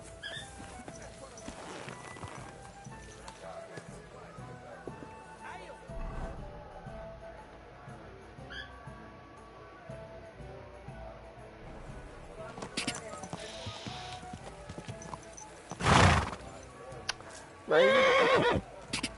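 A horse in the video game Kingdom Come Deliverance gives a loud whinny and hoof sounds late on, after a long stretch of quiet game ambience and scattered noises.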